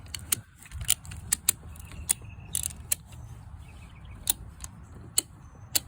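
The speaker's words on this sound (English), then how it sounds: "and with your ratchet," Ratchet tightening bolts on a Mercruiser MR lower unit during installation, sharp metallic clicks and ticks coming in irregular bursts over a low background rumble, close by.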